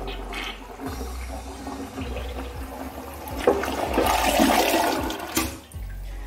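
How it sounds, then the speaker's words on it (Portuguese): Toilet flush in a cleaned porcelain bowl, a close gurgling rush of water that swells midway, then drains with trickling refill sounds. "Deixa eu dar uma descarguinha aqui."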